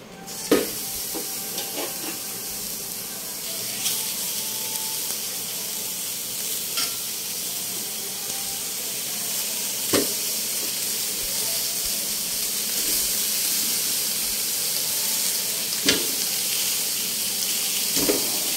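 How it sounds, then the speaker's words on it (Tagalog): Tulingan tuna sizzles on a hot grill, a loud, continuous hiss and crackle close up with a few sharp pops and clacks as the fish is placed and shifted, no talk. "Lagay natin ito ngayon. Iihaw natin dyan."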